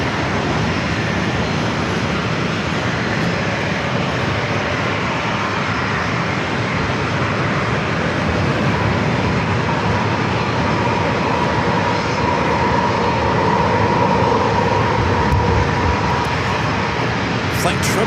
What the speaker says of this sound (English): Flight 999 Southwest. 737-800 heading to Baltimore, Maryland.